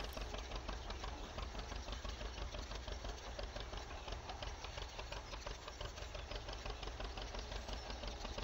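Tractor engine labouring hard in a farming video game, a steady rapid chugging and knocking drone, even and continuous with no talking.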